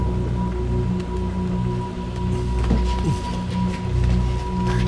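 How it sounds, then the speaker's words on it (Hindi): Steady rain patters on surfaces, a continuous hiss over low hum, with a few faint thuds and no speech. "काफी देर हो गई है और बारिश भी रुक नहीं रही है"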